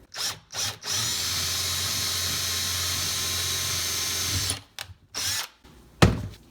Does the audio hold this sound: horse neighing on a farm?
no